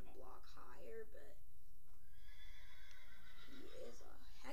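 A horse whinnies in a video game, a high wavering neigh that rises and falls, with talking before and after it.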